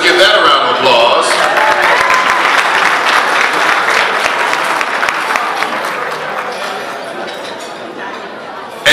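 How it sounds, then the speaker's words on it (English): Applause at an annual dinner: a room full of people clapping steadily, with crowd chatter and clinking dishes underneath, gradually tapering off. "Let's give that a round of applause."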